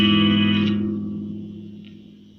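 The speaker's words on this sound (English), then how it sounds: "Just so you can actually hear what we're talking about with the reverbs, you can hear them properly." Electric guitar chord played through a reverb effect on a Nux MG200 modeller, ringing out and slowly decaying into a lingering tail, with a faint second pick near the end.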